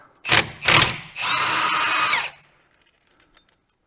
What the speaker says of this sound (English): I'll take this centre bolt out next